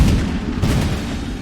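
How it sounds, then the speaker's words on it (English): Cannon fire booms through a battle cutscene of the 1450 Battle of Formigny in Age of Empires, a dense, rumbling barrage of low blasts that rolls on continuously without a break. "the roar of cannon fire sounded the death knell for England's ambitions in France"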